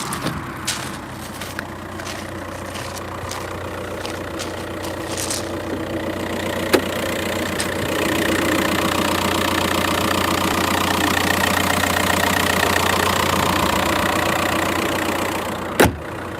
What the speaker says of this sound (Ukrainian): Зараз покажу, як працює двигун.